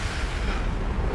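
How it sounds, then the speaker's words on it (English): A nuclear explosion in a video game makes a loud, continuous, deep broadband roar with rumbling low end, steady for its whole brief length. "Zaid's trying to get a little warm in that nuclear explosion there."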